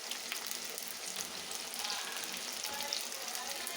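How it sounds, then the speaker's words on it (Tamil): Garlic, curry leaves and turmeric powder frying in a pan with onions, a steady close sizzle and crackle running throughout without talking. "கூடவே கொஞ்சம் மஞ்சள் தூள் போட்டு வதக்கிக்கலாம்."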